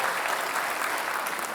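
Studio audience applause for the two Jakarta governor candidates at a Mata Najwa televised debate, a thick, steady roar of clapping throughout, loud and sustained.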